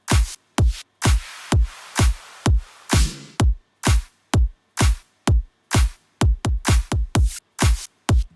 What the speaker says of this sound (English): It's just a kick and a clap, but it's multiple clap loops together to make it sound fuller.